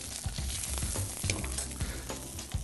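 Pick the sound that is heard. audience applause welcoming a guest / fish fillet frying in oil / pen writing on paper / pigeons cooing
fish fillet frying in oil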